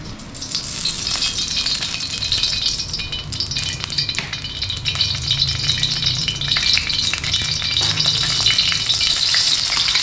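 Oil in a pan for a Thai stir-fry sizzles loudly and steadily while a utensil scrapes and rattles against the pan in irregular strokes, close up, with no talking.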